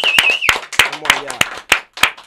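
Scattered, uneven claps ring out sharply and close by, one at a time with gaps between them, while someone talks over them.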